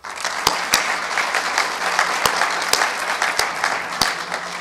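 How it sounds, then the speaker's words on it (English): An audience at a college staff meeting claps in steady applause, dense and fairly loud, with a few sharper individual claps that stand out now and then. Nobody speaks over it. "Two claps."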